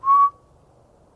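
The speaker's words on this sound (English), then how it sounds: "I heard a whistle coming directly back from that direction" A single short whistled note from a person in a forest at night, a clear steady tone lasting a fraction of a second, then near silence.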